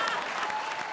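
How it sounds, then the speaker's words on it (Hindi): Loud, dense applause from a comedy show studio audience fills the moment as a continuous wash of clapping. "जोरदार तालियां"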